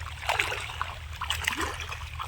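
Irrigation water trickles and splashes steadily as it flows along a channel into a mango orchard, close by and moderately loud over a low background hum.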